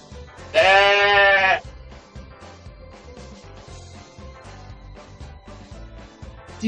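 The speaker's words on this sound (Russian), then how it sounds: "Овца." A cartoon sheep bleats loudly once in a children's educational animal game, a single sustained call over quiet background music.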